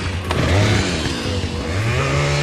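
A chainsaw enemy in the video game Resident Evil 5 revs its saw loudly and continuously, the engine pitch dipping and climbing again over a couple of seconds.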